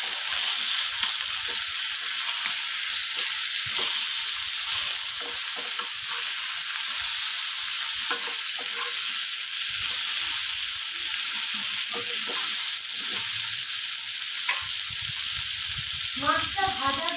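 Bhetki fish fillets frying in oil in a pan, a loud, dense, unbroken sizzle and crackle held close throughout, with occasional faint voice and clinks near the end.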